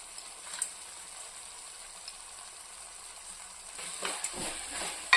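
A spoon stirs grated carrot khoa sweet with cardamom in a hot pan, a soft close sizzle with scraping strokes growing busier toward the end.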